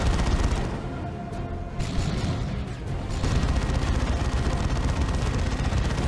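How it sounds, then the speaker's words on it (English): Assault cannon gunfire in the Warhammer 40k strategy game Dawn of War 2 Retribution, a loud sustained rattle of rapid shots with heavy booming impacts, briefly easing midway before resuming dense and continuous. "Warlock getting a face full of assault cannon."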